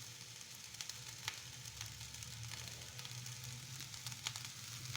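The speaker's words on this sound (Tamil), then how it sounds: "திருப்பி நல்லா கிளறி விட்டுக்கோங்க." Mushroom garlic fried rice being stirred and fried in a pan, a steady low sizzle running throughout with faint scraping and clinks from the stirring, quiet and without talk.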